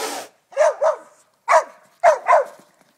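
Baby goats call out in a series of short, high, bleating cries, five quick calls in loose pairs with brief silences between, close and clear with no talk.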